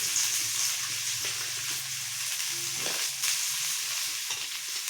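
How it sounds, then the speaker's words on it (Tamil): Onions sauté in oil with mustard seeds, giving a continuous close sizzle and crackle with soft stirring scrapes and no voices. "வெங்காயம் பாருங்கள் நல்லா வதங்கிடுச்சு"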